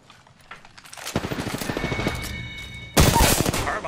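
Rapid carbine gunfire in Apex Legends, a dense run of loud sharp shots building from about one second in, then a heavier burst near the end, close and aggressive.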